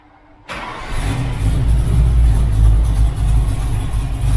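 A Ford Maverick V8 cranks and fires after a brief quiet moment, settling into a loud, rumbling, slightly uneven idle close by with a deep low-end throb.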